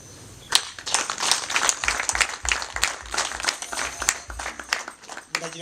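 Clapping from guests at a Rwandan wedding ceremony, a dense burst of many hands that builds quickly and carries on steadily, loud and close, with a few voices mixed in.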